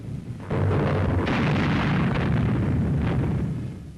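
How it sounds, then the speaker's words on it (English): American artillery fires onto German soil at the frontier, a heavy sustained roar of blasts and rumbling that rises abruptly and stays loud throughout, with no talk. "American troops who have been in a position to make those breaches are here on the threshold of Germany, firing onto German soil"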